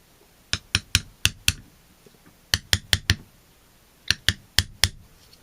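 An awl prying small covers out makes sharp, close plastic clicks and snaps in quick bursts of four or five, with short pauses between the groups.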